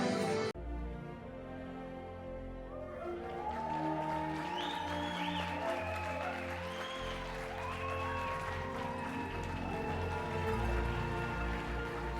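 A crowd at an outdoor wedding-style show in a theme park bursts into sustained applause and some cheering, loud and dense throughout, with music carrying underneath.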